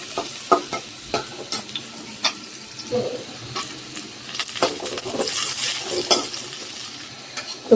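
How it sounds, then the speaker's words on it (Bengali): Onions frying in a pan beside a meat dish, a continuous close sizzle with repeated scraping and tapping stirring strokes throughout. "তো পেঁয়াজ গুলা ভেজে নিচ্ছি"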